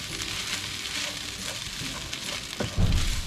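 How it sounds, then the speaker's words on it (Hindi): Rice mixture for chicken teriyaki garlic rice being stirred in a pan after the stove is turned off, with soft scraping and rustling and a faint sizzle, ending in a louder clatter. "चूल्हा बंद करने के बाद मैं इसको मिक्स करूंगा"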